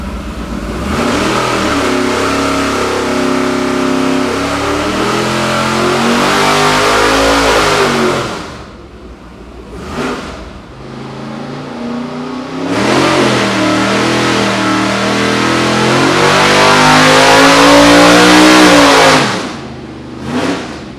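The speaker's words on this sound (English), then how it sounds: "That sounds like a fucking sprint car, dude!" A loud manual C8 Corvette drift car engine with a Borla exhaust revs hard and climbs in pitch, drops off briefly, then roars up again in a second sustained acceleration.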